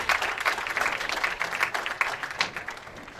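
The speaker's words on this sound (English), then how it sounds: "And a very nice round of applause." Spectators at a women's professional bowling tournament give a moderate round of applause after a final shot, with distinct hand claps rippling through a lively but not huge crowd.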